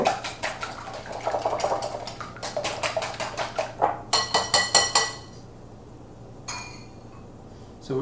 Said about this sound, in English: we're gonna give a quick whisk to have our yolk combined